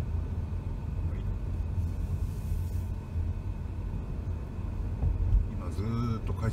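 A Toyota Sienta hybrid slows in city traffic on regenerative braking, a steady low road and drivetrain rumble with tyre noise beneath someone talking from inside the cabin.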